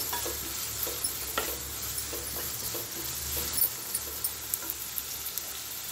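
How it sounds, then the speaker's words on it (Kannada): Mutton chukka frying in a pan and being stirred: a steady close sizzle with light scraping clicks from the spoon scattered throughout, no voices. "ನೋಡಿ, ಇದು ಚೆನ್ನಾಗಿ ಫ್ರೈ ಆಗ್ತಾ ಇದೆ।"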